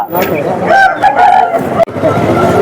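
A rooster crows nearby at a village hen and sheep market in Baireddipalli, a brief call rising out of chatter and general market noise.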